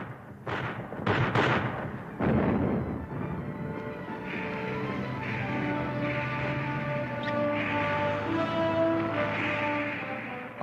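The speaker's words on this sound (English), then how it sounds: "launching the heaviest artillery barrage of the war, Montgomery struck at Alamein." An artillery barrage at the Battle of El Alamein in 1942, several heavy booming blasts in quick succession, then fading into sustained musical tones.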